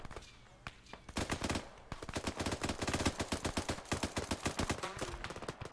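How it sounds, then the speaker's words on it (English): Rapid bursts of automatic gunfire from the military shooter Arma 3, loud sharp cracks coming in dense volleys after a few scattered shots, with no talking. "we're still taking tons of fire"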